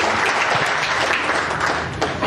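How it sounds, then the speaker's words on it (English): Live audience applause for Allison Stacy at a recorded show, steady dense clapping filling the room for the whole stretch, loud and sustained without a break. "give a round of applause for Allison Stacy."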